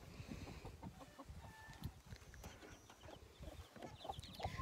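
A mother hen clucks softly and repeatedly in a farm coop beside her tiny newly hatched chicks, with faint peeping and small rustling sounds, quiet and close, no talking.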